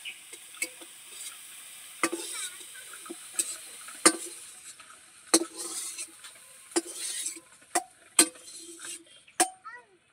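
Radish greens cooking in a pan to drive off their water, with scattered sharp stirring scrapes and clicks over a soft, intermittent sizzle.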